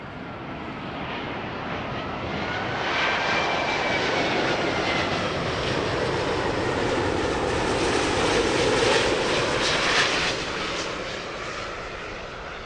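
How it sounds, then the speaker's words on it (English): A huge aircraft comes in to land at Heathrow Airport during reverse operations, a broad, steady engine roar swelling and passing at moderate distance without any voices. "Feathering that huge aircraft in for a landing."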